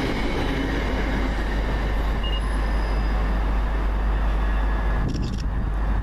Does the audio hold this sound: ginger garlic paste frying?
no